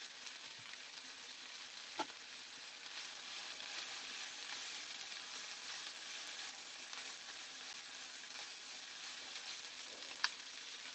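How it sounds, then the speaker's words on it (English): Moqueca, a Brazilian fish stew, sizzles and fries steadily in an oiled pan, with a few soft knocks as it is stirred. "Let me give that a stir."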